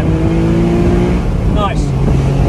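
Porsche Boxster GTS engine blipped under throttle into a bend, a steady close drone with a brief rising rev, while someone talks briefly over it.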